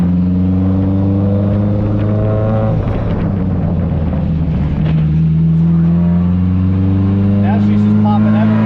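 A burble-tuned SR20DET-swapped Nissan 240sx with an EFR 6758 turbo idles close and loud, its exhaust crackling and popping irregularly as someone talks over the engine.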